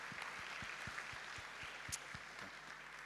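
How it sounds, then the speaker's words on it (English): Quiet applause from the audience at an annual graduation ceremony, a faint crowd of clapping hands with a few distinct, evenly spaced claps standing out nearby. "can we give them a big round of applause for their efforts?"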